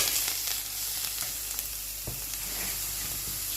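A salmon and egg breakfast cooks in a pan, throwing off a steady, close sizzle with small pops and crackles and no talking.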